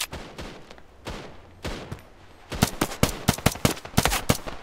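Gunfire in a competitive ranked shooter video game: a few scattered shots followed by rapid bursts of sharp, loud cracks close by, with no talking.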